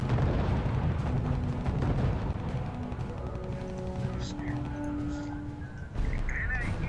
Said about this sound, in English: Okay, start bombing their airfields now.